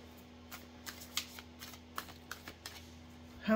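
A deck of cards being shuffled close by, a quiet run of soft riffling flicks with brief pauses between them, followed by a louder rustle at the end, with no talking.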